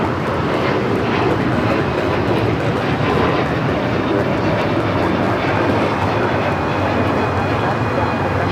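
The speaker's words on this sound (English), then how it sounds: "Got a Delta A321 Neo next takeoff here on the south side." A Delta Airbus A321neo airliner takes off from the south side at LAX, its jet engines giving a loud, steady broadband roar that holds throughout.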